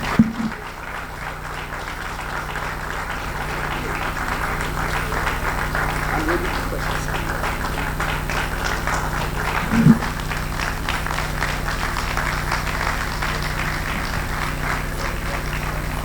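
Audience applause rises after a speech on disability at a Ghanaian event, a long steady spread of clapping over a background hum, with a sharp thump near the middle.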